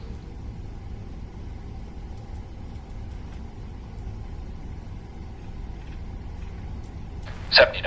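Reverse thrust on a PMDG 777-200 airliner landing in Microsoft Flight Simulator 2020: a steady, low, broadband engine roar holds through the whole run, with a brief sharp click near the end.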